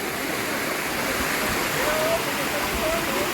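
A waterfall at a spring resort gives a loud, steady rush of falling water, a continuous broadband roar close by, with a faint voice briefly heard beneath it.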